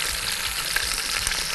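Chicken sizzles in hot oil in a cooking pot, a constant crackling fry near the listener with occasional soft clicks of stirring and no speech.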